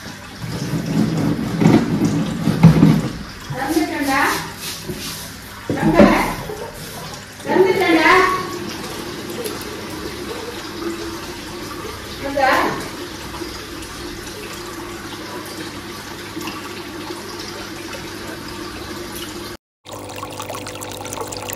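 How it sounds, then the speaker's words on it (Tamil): Water pours steadily into an Oscar fish aquarium tank, a continuous splashing rush with a couple of louder surges early on, while a voice speaks over it in places. "இப்போ நம்ம தண்ணி ஃபில் பண்ண போகிறோம்"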